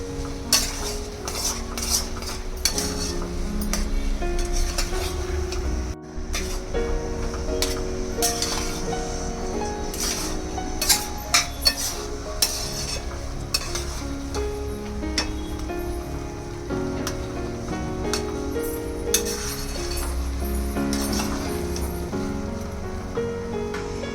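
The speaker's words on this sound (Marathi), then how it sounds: "थोडंसं परत परतून घेऊया" Carrot halwa is stirred in a pan with dense, continuous scraping and clinking of a metal spoon against the pan, loud and close throughout with no speech.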